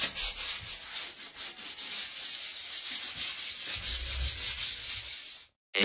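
Hand sanding a wooden wall, a steady rhythmic back-and-forth rasp of sandpaper on wood, close and continuous, briefly stopping near the end.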